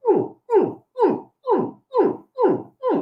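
A person's voice imitates a baby alligator's distress grunt, calling for its mother: seven short, evenly spaced croaking grunts, each falling in pitch, loud and close with brief silences between.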